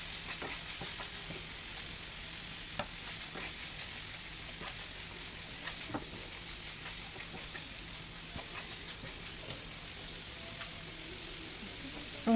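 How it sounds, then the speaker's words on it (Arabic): Minced meat frying in a pan while it is broken up and stirred, a steady soft sizzle running throughout with scattered faint scrapes and clicks of the utensil against the pan. "هبدأ ان انا افككها كده واخليها بقى تغير لون"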